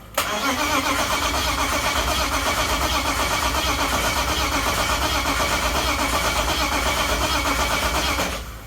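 BMW E36 318is engine cranking steadily for about eight seconds without catching, a close, loud, even starter churn that stops abruptly at the end.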